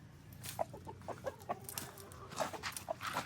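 Farm chickens cluck close by in quiet, irregular bursts, several short calls scattered over a few seconds with no talking.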